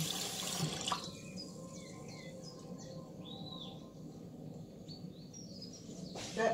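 Water runs steadily from a sink tap while flour is washed off a whisk, a quiet continuous splashing with faint bird chirps in the background.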